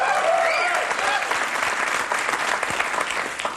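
A studio audience at a comedy show claps loudly and steadily, with a dense wash of hands and a few voices audible at the start.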